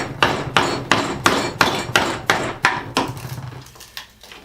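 A run of sharp hammer knocks on wood, knocking the center plug out of a hole saw, about ten strikes at a steady pace. The blows get quicker and fainter near the end, and the sound is close and loud.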